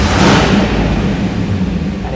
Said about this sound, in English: It rumbles and burbles like a V8 should.